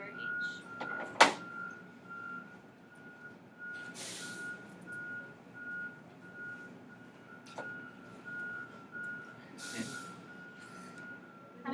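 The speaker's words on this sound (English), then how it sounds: "How many buses are backing up to San Antonio out there?" Buses backing up outside sound a steady chain of evenly spaced reversing beeps, moderately distant, with occasional sharp air-brake hisses and a low traffic rumble underneath.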